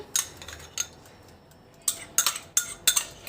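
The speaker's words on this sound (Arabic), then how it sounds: "شايفه اهو المعلقه ماشيه سلسه جدا ومبحبحه خالص، مفيش الرز مش مزنوق معايا وانا بقلب" A metal spoon stirs and scrapes through rice in a pot, giving a string of sharp clinks and scrapes in short bursts with a quiet gap in the middle, close by and without talk.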